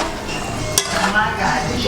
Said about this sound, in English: we're just gonna stir it up